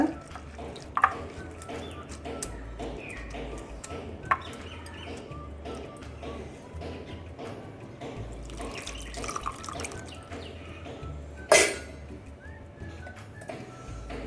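Running water splashes and drips close by as rice flakes are swished and drained, with occasional clinks and a brief louder splash near the end.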